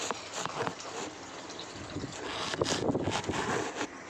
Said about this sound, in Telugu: చల్లగా ఉంది గాయస్, గాలి కూడా వస్తుంది.